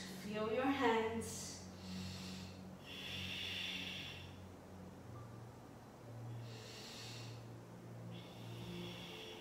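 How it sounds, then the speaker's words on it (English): Ujjayi yoga breathing made in the throat during an Ashtanga practice: slow, soft, hissing breaths drawn in and out at a steady pace, heard close, with a voice talking over the start. "use your ujjayi breathing, making that sound in your throat"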